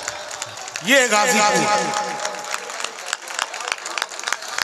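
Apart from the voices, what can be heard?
audience applause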